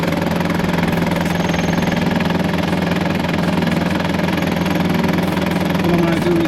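A 2004 Mitsubishi Triton engine idles steadily just after a service and fuel filter change, a loud, continuous mid-pitched rumble with no breaks.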